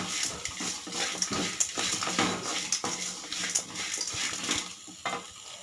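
Grated coconut sautéed in a pan, with repeated scraping and stirring clatter of a utensil against the pan over a soft sizzle, close and uneven.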